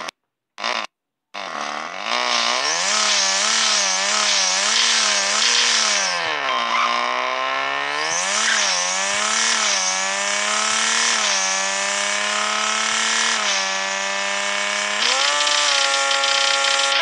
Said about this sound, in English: So that's how the RX 7 RE sounds. It's a rotor engine, a crazy rotor engine